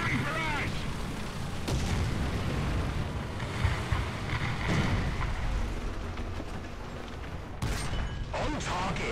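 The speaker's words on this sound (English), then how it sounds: "Our sector is under artillery barrage!" Artillery barrage in War Thunder ground battle with a PzKpfw III Ausf. E tank: continuous rumbling explosions and booms over engine drone, with sharper blasts near the second and eighth seconds, under a speaking voice.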